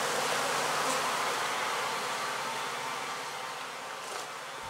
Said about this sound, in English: Bees are vertical creatures.